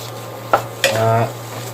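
Minced pork being stirred with curry paste in a pan for a southern Thai dry curry, with a couple of sharp utensil scrapes against the pan and a brief sizzle, close and alone.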